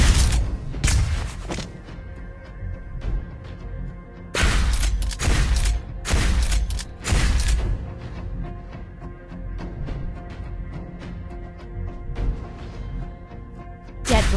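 Repeated bursts of gunfire from the hero Lesley in the mobile game Mobile Legends, loud sharp blasts clustered near the start and again in the middle, over a continuous bed of game music and effects.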